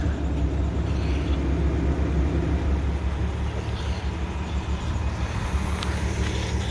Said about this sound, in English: We'll listen to the engine.